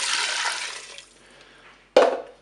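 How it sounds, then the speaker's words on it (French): Broth pours noisily into a Cookeo pot holding lentils, a close splashing gush that tapers off, then a brief sharp splash near the end. "Je vais ajouter le bouillon."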